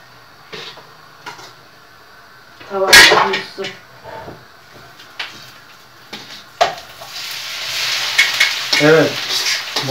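Green beans coated in corn flour and egg sizzle in a pan, with stirring, clattering cookware and a cupboard bump around bursts of frying, while people talk nearby in short exchanges.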